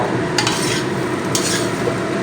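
Chow mein noodles being stirred and tossed in a hot pan, scraping and sizzling steadily with a couple of sharper scrapes, close and fairly loud.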